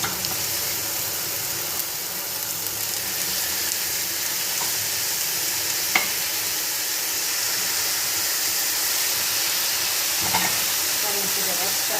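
Meat sizzles and fries in a pan with onions for a winter spinach dish, a steady loud hiss with occasional stirring clicks, under a woman's speech.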